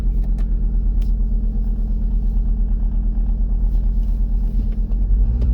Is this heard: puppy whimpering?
no